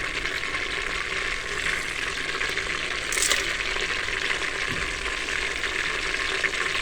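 Whole spices frying in oil inside a pressure cooker, a steady dense sizzle running evenly throughout with a brief brighter crackle near the middle, no voices.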